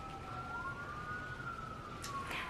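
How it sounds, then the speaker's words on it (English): A police siren wails outside, a single long rising and falling tone that is moderately faint and slightly distant, heard alone without talk, with a couple of brief noisy bursts near the end. "So good that the police are coming. I'm not sure if you can hear that siren."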